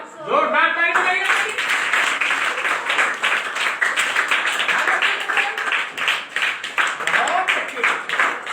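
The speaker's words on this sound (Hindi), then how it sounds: "हमार जोरदार ताली बजाइए" Schoolchildren in a classroom burst into a long round of enthusiastic clapping, dense and fairly close, after a brief voice at the start, with a few shouts over the applause.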